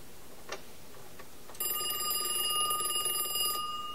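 A USTel Model 5 Contessa rotary dial telephone with a 581 Western Electric network rings with a single sustained metallic bell burst lasting about two seconds, preceded by a few faint clicks.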